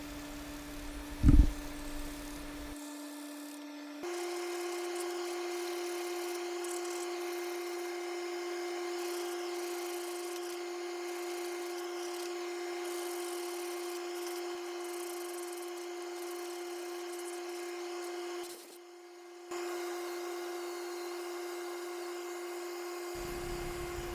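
A steady motorized whine from power sanding walnut on a lathe drones for a long stretch with a sharp tap early on and a brief dip near the end, loud and close with no talk.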